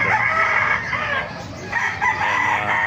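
A rooster crows loudly and close by at a market in Bocaue, with a drawn-out call, while other fowl cluck in the background.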